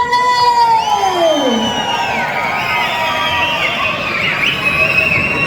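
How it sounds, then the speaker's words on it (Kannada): A live stage-show audience cheers and whoops to welcome the Golden Star, loud crowd shouting with high excited voices swelling and sliding over a dense babble, continuous for several seconds. "ನಿಮ್ಮೆಲ್ಲರ ಚಿನ್ನದಂತಹ ಚಪ್ಪಾಳೆಯೊಂದಿಗೆ ಸ್ವಾಗತಿಸಿ"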